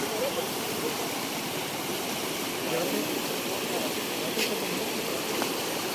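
Floodwater in Pakistan flows strongly, a steady broadband rush like a stream or small waterfall, moderately faint and continuous for several seconds with no voices.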